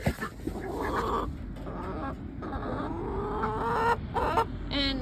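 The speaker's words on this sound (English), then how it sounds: "the chickens are still in, and I'm not getting pecked at" Several chickens cluck and murmur nearby inside a coop in an uneven, continuous chatter, with occasional louder squawks rising above the flock.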